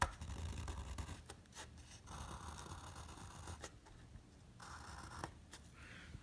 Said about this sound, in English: I'm gonna go right and cut this line right here.